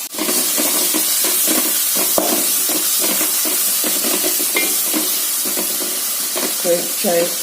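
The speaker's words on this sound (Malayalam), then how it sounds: "ഈ സവോള ഇഞ്ചി കറിവേപ്പില വെളുത്തുള്ളി ഒക്കെ അരിഞ്ഞ് ഇട്ട് വഴറ്റണം" Onion, ginger, curry leaves and garlic sauté in a hot pan with a steady broadband sizzle throughout, punctuated by repeated scraping and stirring clatters of a spatula against the pan, close and fairly loud.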